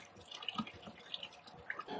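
Water drips and trickles from a motorbike radiator being flushed, a series of small irregular drops and splashes close by, fairly quiet, with no talking.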